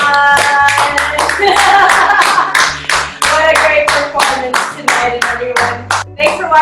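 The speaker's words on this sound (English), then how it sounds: "Let's applaud that one" Close, crisp hand claps land in a steady, regular rhythm, like an audience clapping along after a performance, with sustained tonal sounds running underneath and only brief gaps between the beats.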